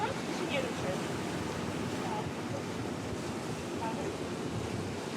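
Wake waves churn behind an electric superyacht cruising at up to 15 knots, a continuous broad wash of surf and rushing water mixed with heavy wind buffeting the microphone.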